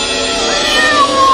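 A cat meows loudly and close by, a single drawn-out, rising then falling cry filling most of the short moment, heard alone without talking.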